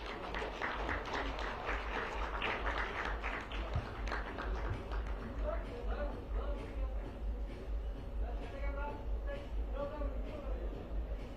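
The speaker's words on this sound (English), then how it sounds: "A big round of applause for Dr. Aba Amin." An audience at an eye hospital's medical technology conference in Chennai claps, a dense, sustained burst of applause with some voices mixed in.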